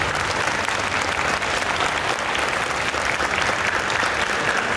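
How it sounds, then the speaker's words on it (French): Steady, dense applause from an audience at a conference on manga editors, holding at an even level throughout with no voices standing out. "On peut les applaudir bien fort."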